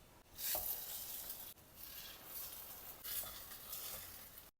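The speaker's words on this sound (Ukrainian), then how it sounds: "Смажимо звичайні нам грінки з дитинства." Steady sizzling of cheese toast frying in a pan, with occasional scraping and stirring sounds, close and moderately loud.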